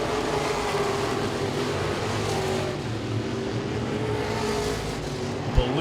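Modified race cars lapping at Langley Speedway during a 50-lap event, a continuous engine roar from the field of cars carrying on steadily throughout, with commentary underneath.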